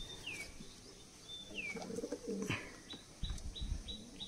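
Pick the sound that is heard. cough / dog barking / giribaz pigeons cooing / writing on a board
giribaz pigeons cooing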